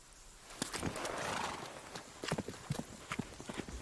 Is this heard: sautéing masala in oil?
no